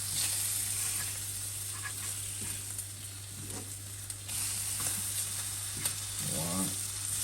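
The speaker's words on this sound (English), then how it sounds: "Just flip over the bacon." Bacon sizzling in a frying pan, a steady bright crackling hiss close up, with a few soft clicks and scrapes of a fork as strips are turned, no speech.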